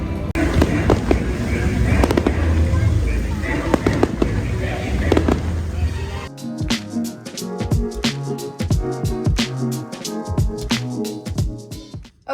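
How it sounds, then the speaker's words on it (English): Fireworks pop and crackle in rapid bursts, first under steady rain and voices, then as a dense run of sharp bangs. "it's raining and the fireworks are going on"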